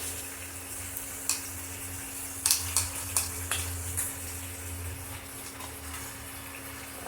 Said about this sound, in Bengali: গুড়টা সহকারে কষাতে থাকলে গুড়টাও গলে যাবে,